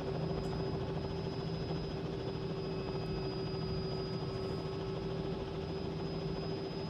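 Steady, continuous engine and rotor drone of a helicopter in a Microsoft Flight Simulator 2020 setting, an even, unbroken hum at constant level with no talking.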